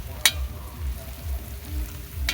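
Onions frying brown in a pan at an outdoor picnic give a soft, steady sizzle with low stirring scrapes and a couple of sharp clinks, fairly quiet and close.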